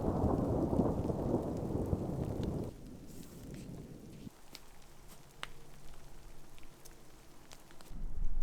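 A winter thunderstorm over a tarp campsite: heavy rain patters loudly at first, then eases into scattered drips and distant rumbling thunder, with rain swelling again at the end.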